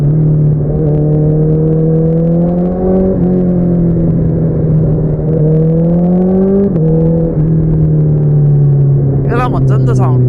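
A sport motorcycle engine revs in loud, close swells, its pitch climbing and dropping back several times over a steady throbbing idle, with a brief burst of chatter near the end.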